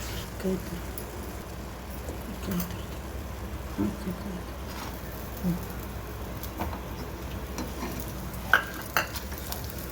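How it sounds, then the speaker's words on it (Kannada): Spices and kasuri methi frying in a pan for tomato bath: a low, crackling sizzle with irregular stirring scrapes and occasional sharp taps, fairly quiet and continuous, with faint voices at times. "ಕಸ್ತೂರಿ ಮೆಥಿ ಒಂದು ಸ್ವಲ್ಪ ಹಾಕಿ ಅದನ್ನು ಫ್ರೈ ಮಾಡ್ಕೋಬೇಕು"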